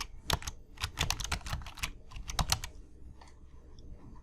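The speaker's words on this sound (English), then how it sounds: "I'm going to type some new words in here." Rapid clattering keystrokes on a computer keyboard come in quick, close bursts of typing, then thin out to a few faint, scattered taps.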